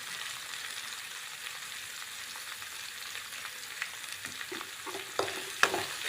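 Sliced onions with a little salt sizzle steadily in a pan, a faint continuous frying hiss with a few light stirring scrapes near the end, and no voices.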